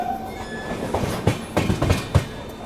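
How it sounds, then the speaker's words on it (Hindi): The Visakha Express from Bhubaneswar to Secunderabad rolling into Khurda Road Junction station, with loud rumbling wheels, rhythmic clattering rail joints and a faint squeal, heard close and alongside. "और सामने कोई तो ट्रेन आ रही है। ये है विशाखा एक्सप्रेस भुवनेश्वर सिकंदराबाद।"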